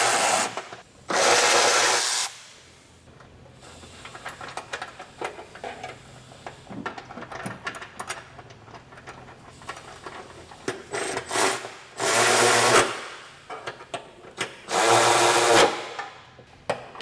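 Power tool cutting a notch in plastic during a lift install on a 2019–2025 Honda Passport, with several loud whirring cutting bursts separated by quieter handling and scraping noise, no talk.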